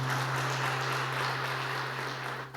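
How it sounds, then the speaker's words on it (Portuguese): A church congregation applauds in a dense, steady wash of clapping from many hands, filling the room evenly over a low electrical hum before tapering slightly at the end. "Aplaudam ao Senhor, meus irmãos."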